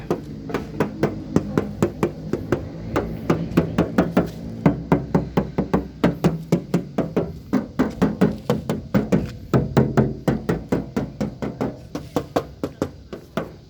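Someone raps rapidly and repeatedly on the roof of a 1993 Suzuki Vitara JLX 4WD, producing a long, even series of loud, close knocks on sheet metal with no talking.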